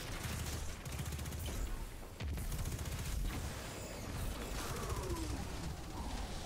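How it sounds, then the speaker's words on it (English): Dense gunfire and volatile explosions in the Destiny video game, a continuous rapid barrage of shots and blasts, loud and busy with no voices. "A lot of volatile explosions."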